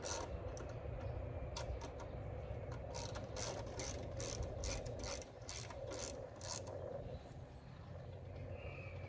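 A ratchet clicks in quick bursts, loud and close, as bolts are backed out of a Harley radio fairing, with pauses between each run of rapid pawl clicks.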